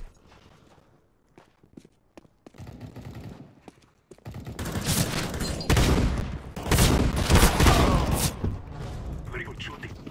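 Gunfire in Counter-Strike: Global Offensive on the Dust 2 map, with a few sparse sharp shots and footsteps at first, then a loud dense burst of rapid overlapping shots filling the second half.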